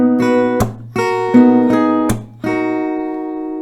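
Acoustic guitar playing the F section of a song, fingerpicked bass and treble notes mixed with sharp percussive body slaps at a steady rhythm, close and clear with no talking.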